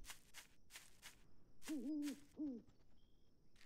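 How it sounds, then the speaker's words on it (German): In the video game Night of the Dead, a dove coos twice in quick succession amid soft thumping footsteps and game ambience, fairly faint overall. "Eine Taube, die ist lustig."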